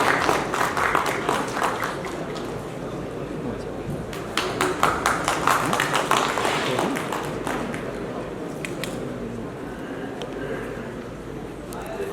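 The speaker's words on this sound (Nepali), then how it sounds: "उहाँलाई जोरदार तालीका साथ स्वागत गराउँछु।" Audience applause greets poet Navaraj Parajuli as he is welcomed on stage, a dense spread of clapping with bursts of sharper claps that rise and swell across the whole stretch, steady and fairly loud.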